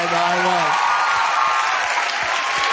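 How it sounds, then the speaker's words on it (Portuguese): Studio audience on a Brazilian late-night TV show claps after a music guest's appearance, a dense steady burst of applause that briefly overlaps a fading voice at the start. "Aplausos aqui!"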